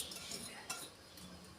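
A spoon scoops rice into a cooking pot, a quiet scrape with one brief metallic clink, close up and without talking.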